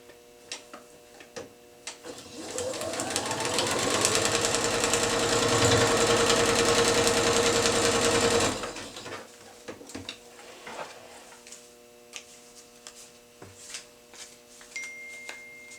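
A sewing machine runs a single steady burst of stitching along a quarter-inch piecing seam in quilt fabric, its motor whirring for several seconds at moderate volume before stopping, with light handling clicks before and after.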